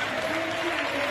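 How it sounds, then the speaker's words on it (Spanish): Lawmakers in a legislative chamber applaud to celebrate reaching quorum, a brief, dense burst of clapping with a voice faintly audible beneath it. "Acá está cuando aplauden celebrando esto del quórum."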